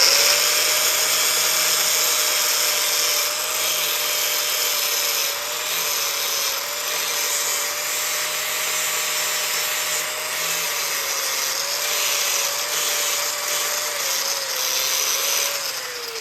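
Small 3-inch roll-lock disc on a power tool grinding steadily, a loud high-pitched whine close by that wavers slightly in pitch as the disc bears on the metal, with no talk.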